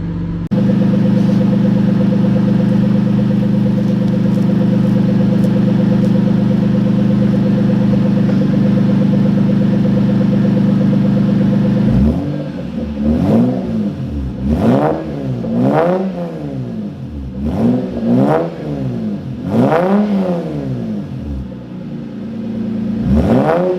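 A Lexus SC300 with a homemade custom exhaust idles with a steady low drone, then gets about six sharp throttle revs that rise and fall in quick succession, loud and close.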